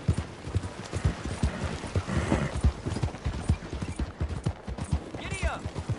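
Horse hooves clip-clop in a fast, steady galloping rhythm throughout, close and loud, in the Western video game Red Dead Redemption 2, with a brief whinny near the end and a voice talking over the ride.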